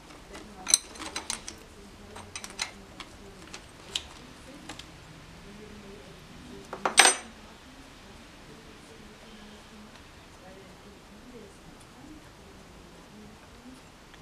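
A wrench loosens a 19 mm oil feed line bolt on a BMW E46 with an M54 engine, giving scattered ratcheting clicks and one louder metallic burst at close range.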